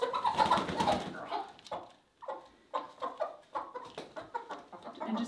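Chickens roosting at night in a coop give soft, close clucks and low murmuring calls in irregular bursts with short quiet gaps between them.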